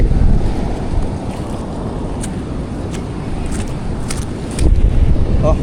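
Rough sea waves wash against a fishing boat off Guiuan amid steady wind noise, a continuous low roar of water that swells louder near the end, with no talking.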